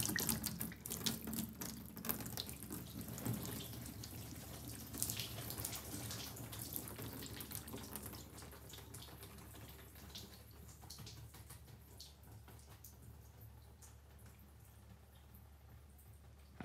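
Water sprays onto a car being detailed with a ceramic spray coating, a steady hissing rush that runs on unbroken and slowly eases in loudness toward the end.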